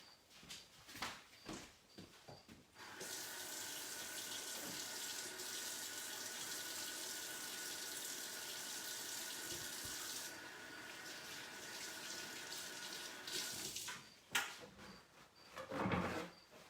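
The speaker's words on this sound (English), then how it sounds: "I'm going to wash my hands and we'll begin" A kitchen tap runs steadily for about eleven seconds while hands are washed before baking, a broad even rush of water that starts abruptly and cuts off, with some handling clatter before and after.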